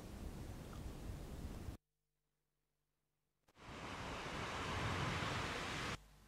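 Waves at Watu Klotok beach in Tojan village, Klungkung, Bali, giving a steady, full surf roar that cuts out to near silence midway, then swells back just as strongly.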